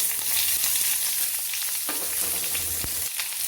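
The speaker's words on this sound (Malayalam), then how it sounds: "കൊച്ചുള്ളി ഒന്ന് നന്നായി വഴന്നു വരട്ടെ." Chopped shallots sauté in hot coconut oil with mustard seeds and curry leaves, giving a steady, dense sizzle at close range, broken by a few soft clinks and scrapes from stirring.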